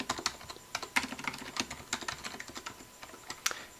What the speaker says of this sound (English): So I'm going to type that out.